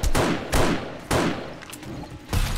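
Heavy gunshots in the survival game 7 Days To Die during a night horde, four loud booming blasts spaced about half a second to a second apart, each with a decaying tail.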